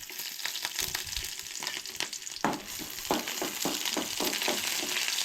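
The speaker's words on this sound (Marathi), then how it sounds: "सो हांगसर पयलीं ॲड केला तेल मम्मीन. तेज्या उपरांत लसूण" Garlic sizzles and spits in hot oil for a Goan red cowpeas coconut curry, a steady close frying hiss broken by a run of crackling pops.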